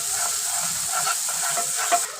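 Ginger garlic paste and green chilli paste frying in a pan for an egg biryani masala, a short steady sizzle with a few soft stirring scrapes, close and without voices.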